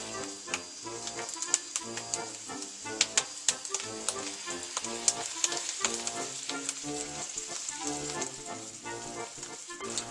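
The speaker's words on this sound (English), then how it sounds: "Our creme fraiche is reducing." Creme fraiche reduces in a pan over medium-high heat, giving a steady close sizzle with dense bubbling pops and crackles throughout, no voices.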